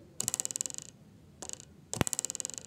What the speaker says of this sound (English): This is the sound of a wooden ruler when I pull it downward and leave it.